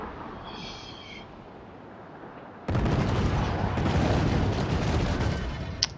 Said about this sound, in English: There we have some more mortars, but they're missing the point